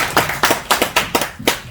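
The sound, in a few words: applause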